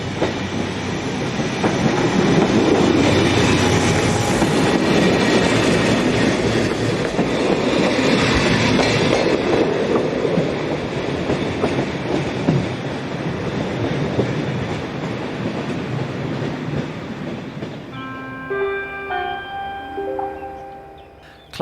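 An SNCF X4400 class railcar, X4403, on the morning service from Bourges, rumbles past loudly and close with rolling wheel clatter, fading toward the end, where a high-pitched horn or squeal sounds briefly.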